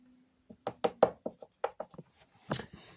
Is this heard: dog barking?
no